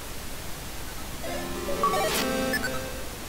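Electronic bleep-bloop tones from the arcade game Tap That Glass in Midway Arcade Origins, slowed down: a short cluster of chirpy synthetic beeps rising out of steady background hiss, moderately faint.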